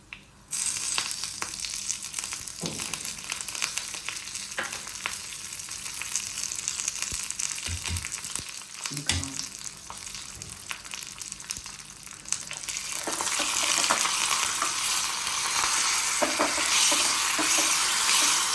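Urad dal, dried red chillies and curry leaves sizzle and crackle steadily in hot oil for a tempering, with stirring noises, and the frying grows louder and hissier toward the end.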